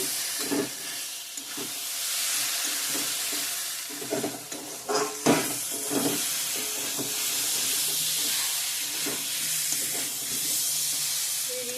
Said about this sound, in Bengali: আলু পটলের সঙ্গে একটু ভালো করে কষিয়ে নেব